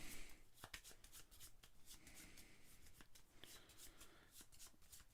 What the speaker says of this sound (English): So General Grievous is going to activate. So shuffle up his deck of cards here.